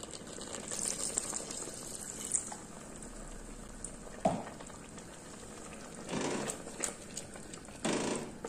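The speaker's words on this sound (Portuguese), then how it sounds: "E vou colocar 100 ml de água." Water, about 100 ml, poured into a pot of free-range chicken stewing over a lit burner, giving a sizzling, bubbling hiss with louder splashy bursts near the end and no talking.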